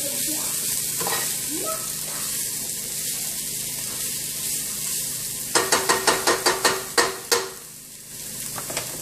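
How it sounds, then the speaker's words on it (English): Vegetables sautéing in a pan for a tofu scramble, with a steady close hiss of frying, followed by a quick run of about ten sharp rhythmic taps of a utensil against the pan. "So just saute your veggies first for about 5 minutes or so and let them break down"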